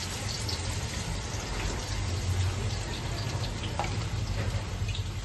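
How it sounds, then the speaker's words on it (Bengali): Chopped garlic frying in a pan for cheese pasta makes a soft, continuous crackling sizzle like light rain, even and fairly faint, close with no talking. "তো প্রথমে একটু রসুন কুচি দিয়ে দেবো।"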